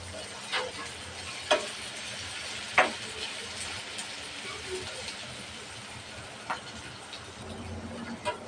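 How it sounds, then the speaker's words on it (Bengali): Salted onion fries in a pan for a bitter gourd bhaji, making a soft continuous sizzle with a few sharp faint ticks and pops scattered over it, heard alone without talk. "পেঁয়াজটা ভালোভাবে ভেজে নিয়েছি।"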